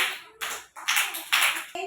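Small children in an Anganwadi class clap their hands in three short bursts of quick, light claps, fairly close, with a brief pause between bursts and no talking over them.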